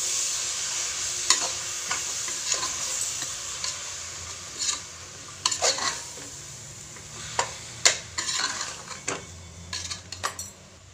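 Ground onion-tomato paste for a vegetable kurma is stirred in a hot pan, with a soft sizzle under intermittent scraping strokes and light clinks of a spoon against the metal.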